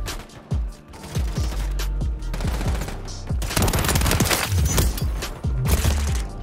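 Rapid automatic bursts from a video game gun in a fast-paced shooter, loud and close, firing in quick repeated strings of sharp cracks with brief pauses between bursts.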